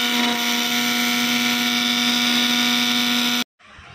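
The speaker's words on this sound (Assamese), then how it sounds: "এয়া মগজ এণ্ড কেচু নাট গোটেইখিনি মই মিক্সাৰত দি দিছোঁ, গ্ৰাইণ্ড কৰি লওঁ" An electric mixer grinder whirs loudly and steadily as it grinds magaz seeds and cashew nuts, a constant high motor drone that cuts off abruptly near the end, leaving only a faint rattle.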